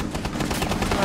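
Rapid automatic gunfire in Rainbow Six Siege, fired down through a breakable floor, a dense close burst of shots with a player's voice mixed in.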